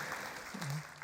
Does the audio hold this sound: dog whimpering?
no